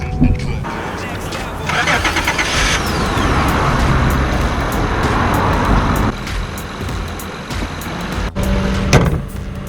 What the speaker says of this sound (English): now let's start this motor